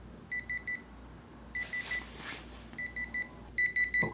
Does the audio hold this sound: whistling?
no